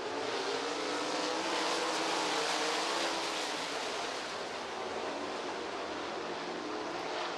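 A pack of B-Mod, RaceSaver and NOSA sprint race cars roars back up to speed on a restart at I-90 Speedway, a dense, continuous engine wash heard from a distance.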